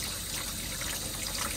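Hot water runs from a campervan kitchen tap in a Benimar Mileo 243 motorhome, a continuous loud rushing flow close by with no break.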